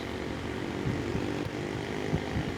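A Suzuki Smash motorcycle engine labours up a steep hill, a constant droning hum with low throbbing pulses, steady and close throughout.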